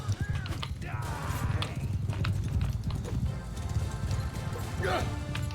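Horse hooves gallop in a battle video game, a steady rapid clatter with occasional crashes and faint whinnies, running under continuous talk from a player.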